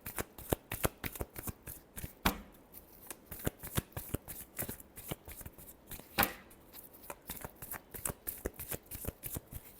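Tarot cards shuffled by hand in a steady stream of crisp, rapid riffling bursts, close and fairly loud, with two longer swishes partway through and no talking.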